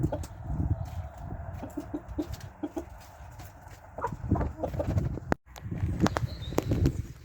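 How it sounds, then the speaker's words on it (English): Chickens cluck in short bursts close by, with a rooster's louder calls rising above the flock and steady farmyard background noise. "the content little chicks and the big ruckusy cockerel"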